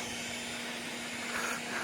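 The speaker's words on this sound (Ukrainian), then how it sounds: "У нас під'єднаний ну, ось такий фен." A hair dryer running from a solar power station fed by a single panel, a steady loud whooshing blower noise with a constant motor whine, unbroken and close.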